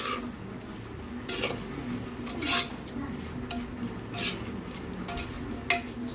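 Onions and salt being stirred in a pressure cooker, with a spoon clinking and scraping against the metal pot several times over a faint background sizzle, close by and with no voices.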